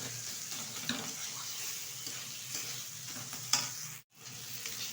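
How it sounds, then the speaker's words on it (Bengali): Fish momo filling sizzles over high heat in a pan while being stirred, a soft steady frying hiss with occasional utensil clicks and a brief break near the end. "দু থেকে 3 মিনিট মতো হাই আছে রান্না করে নিলেই কিন্তু পুরটা তৈরি হয়ে যাবে।"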